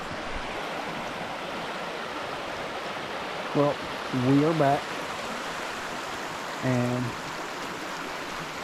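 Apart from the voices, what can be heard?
creek water flowing around rocks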